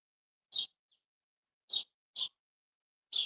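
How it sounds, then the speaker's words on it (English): Short, high chirps from finches come in sparse, isolated bursts, clear and close against an otherwise quiet background. "don't those finches drive you crazy?"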